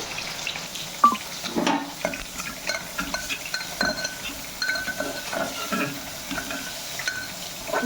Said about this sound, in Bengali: এখন এগুলো সব কিছু দিয়ে একটু হালকা নেড়ে নেব